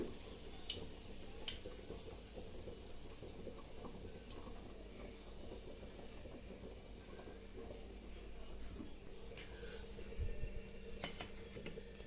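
Fish fries in a pan and is turned, giving a faint steady sizzle with scattered clinks and scrapes of a utensil against the pan, no voices.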